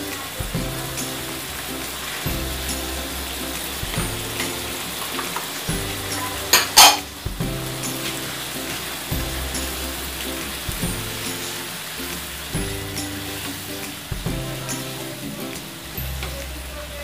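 Velouté sauce hits a pasta pan and fries with a steady sizzle while a utensil stirs. A sharp clatter sounds partway through, and soft rhythmic music plays underneath.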